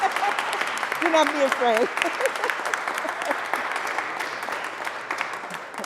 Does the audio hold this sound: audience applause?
yes